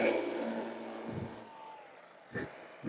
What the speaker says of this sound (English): You can hear all the construction trucks going